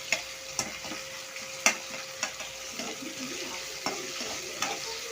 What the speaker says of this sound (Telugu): ఆనియన్స్ వేసుకొని ఫ్రై చేసుకోవాలి.